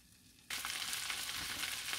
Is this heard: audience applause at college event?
no